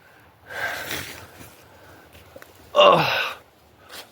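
Heavy, ragged breaths and a sharp gasp from a man worn out after climbing Moncreiffe Hill to his wild-camping tent, close up, in uneven bursts separated by pauses.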